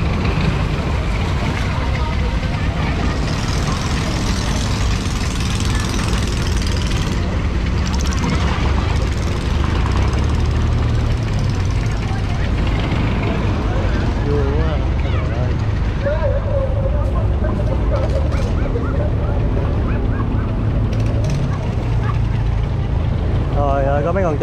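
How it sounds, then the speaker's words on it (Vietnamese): Boats motoring past at the Cai Rang floating market on a river in Can Tho, a loud continuous engine drone with a passing hum, while people talk throughout. "Ghe tàu thì qua lại quá trời luôn."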